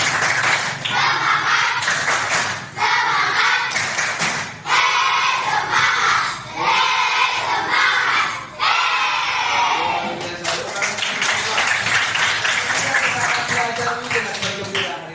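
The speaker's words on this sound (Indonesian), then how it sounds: "coba tepuk semangat" Schoolchildren in a classroom clap a rhythmic spirit-clap chant together, bursts of loud unison claps and shouted words broken by short pauses, growing into sustained clapping and cheering toward the end.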